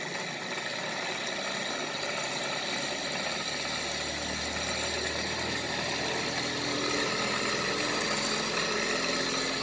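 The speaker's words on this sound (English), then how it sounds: "here the motor is going to start" A BLDC motor generator on a 7-volt supply starts and runs with a steady, faint mechanical hum and whir that stays fairly even throughout.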